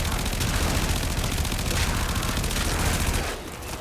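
Rapid Braton assault rifle fire in the Warframe video game forms a dense, continuous burst of loud, close shots for over three seconds, then tapers off at the end.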